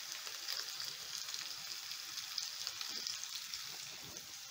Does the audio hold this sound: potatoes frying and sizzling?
yes